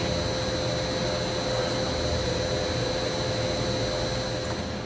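The spindle of a Willis RTM100 open CNC vertical machining center runs at 6,000 RPM, giving a steady, even whine with a constant hum underneath and no voices.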